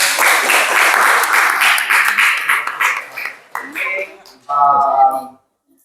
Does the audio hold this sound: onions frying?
no